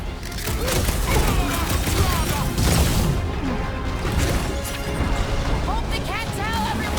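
Rapid gunfire and crashing impacts from a battle in Guardians of the Galaxy, dense and loud bursts continuing throughout, with characters shouting over the shots.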